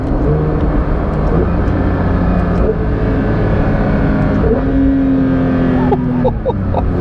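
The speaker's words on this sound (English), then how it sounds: "Engine note changes as well, because now you've got the sports exhaust is kicked in." A Porsche 911 GT3 (992.1) engine with sports exhaust revs and drops through the gears, exhaust note rising and falling continuously with a steady loud rumble throughout.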